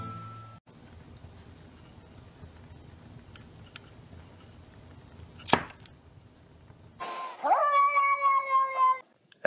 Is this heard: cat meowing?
yes